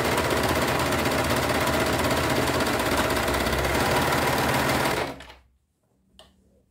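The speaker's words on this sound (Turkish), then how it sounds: "Cep torbalarını overlock çekiyorum." An overlock sewing machine stitches pocket linings for children's jogger trousers, running as a loud, steady whir for about five seconds before it stops, with a faint click afterward.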